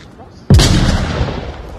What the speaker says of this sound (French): Non, c'était une grenade. C'était pire encore, c'était une grenade.